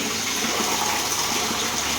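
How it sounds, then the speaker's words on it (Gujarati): Water from a borewell motor pump pours out in a steady, loud, close rush of gushing flow. "આ મોટર ચાલુ કરી છે ઉપર ટાંકો ચાલુ છે અહીંયા અમારે બોરિંગ છે"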